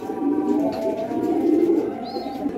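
Domestic pigeons coo in a steady, low, continuous murmur from a pair in a breeding loft. The sound is fairly close and fills the whole stretch with no talking over it.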